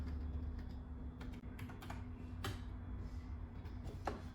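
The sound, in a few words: typing on BAIHUAFRU small wireless iPad keyboard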